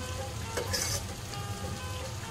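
Mutton being sautéed down in a pan for a thin potato-and-mutton curry gives a steady, moderately quiet sizzle and fry, with a brief stirring scrape partway through.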